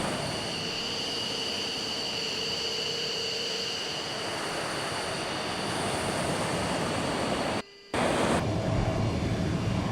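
Simulated F-15 fighter jet taxiing in the FSX flight simulator, a steady loud turbine whine and roar holding throughout with high tonal lines, briefly cut out near the end before resuming.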